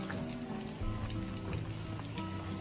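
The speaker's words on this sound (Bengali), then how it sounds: "কি পরিমাণে বৃষ্টি হচ্ছে দেখুন" Heavy rain in England pours steadily onto surfaces outdoors, a dense, continuous hiss of drops with no voices.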